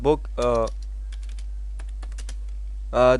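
Keys are typed while an English grammar sentence is being written out, with faint scattered clicks under brief bursts of a voice at the start and end.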